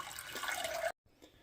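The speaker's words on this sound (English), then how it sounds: "Always rinse my rice till the water starts coming out fairly clear." Rice rinsed in a strainer under running tap water: a steady close splashing stream for most of the moment, then it cuts off abruptly, followed by a faint drip or small splash.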